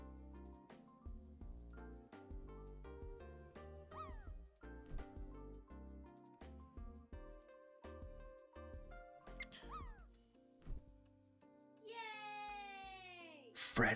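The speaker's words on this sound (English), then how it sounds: "the cat is landing" A cat's drawn-out meow rises and falls near the end, heard over an ongoing tinkling musical backdrop.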